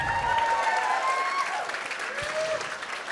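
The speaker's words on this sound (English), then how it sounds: "one more round of applause for Ty Jenkins." Audience applause at a charity tea and champagne gala in Hawaii, a moderate crowd clapping steadily and fairly close, with a few voices calling out and whooping over it.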